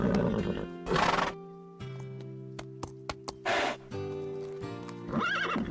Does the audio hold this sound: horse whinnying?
yes